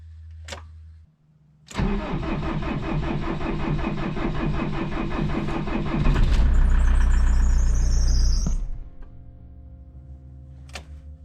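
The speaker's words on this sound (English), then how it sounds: "Start this engine." An Iveco Daily campervan engine cranks and catches in winter, then idles steadily, revving louder briefly before shutting off; a couple of sharp clicks follow.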